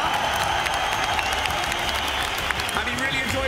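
A Lisbon esports grand final crowd applauding and cheering continuously, dense, loud clapping filling the arena, with a voice speaking over it.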